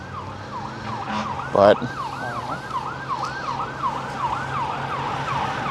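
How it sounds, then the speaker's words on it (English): An ambulance siren wails in a steady repeating rising-and-falling cycle, moderately loud and ongoing, with a brief louder knock partway through and a single short word spoken over it. "ambulance"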